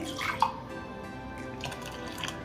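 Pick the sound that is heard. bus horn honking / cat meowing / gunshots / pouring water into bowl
pouring water into bowl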